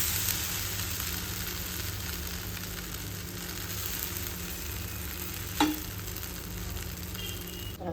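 A dosa fries on an oiled pan with a steady, even sizzle throughout, close and fairly loud, with a brief clink of a utensil near the end and no talking.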